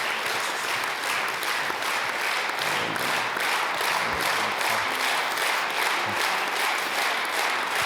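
Sustained applause from a church congregation fills the space steadily from start to finish, a dense, even wash of many hands clapping with no voices standing out.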